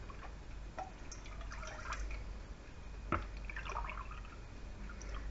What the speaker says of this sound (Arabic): كنديرو الحليب ديالنا